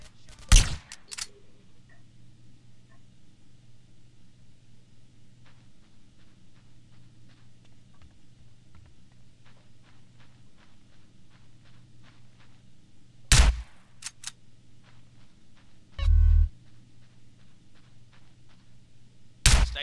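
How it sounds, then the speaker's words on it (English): Gunfire crackles in GTA San Andreas, loud isolated shots spaced far apart over a steady low background hum, with one short burst near the start, a cluster of shots later on, and a muffled blast near the end. "Give me some fucking covering fire!"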